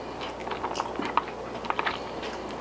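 Someone bites into barbecued pork spare ribs cooked hot and fast, wrapped and sauced, with close, wet chewing and a few soft crunches over a quiet background.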